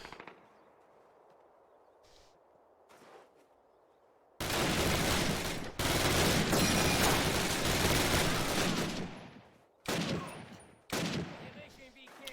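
Machine gun fire in Call of Duty, set in a Bastogne bunker, comes as long loud sustained bursts after a quieter stretch with a few faint distant shots, then two shorter sharp bursts near the end.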